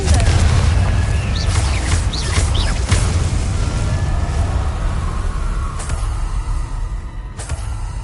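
In the Hogwarts Legacy video game, a Confringo fire spell erupts in a heavy, rumbling explosion. The deep boom rolls on for several seconds beneath faint chirps and crackling, with a sharp crack near the end.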